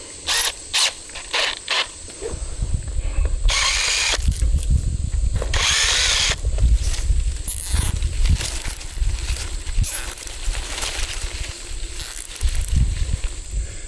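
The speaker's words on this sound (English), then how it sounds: "So I'm going to drill a hole in them and then run the zip tie through them." A power drill whines loudly in bursts, revving up and down as it bores through material, with short pauses between runs.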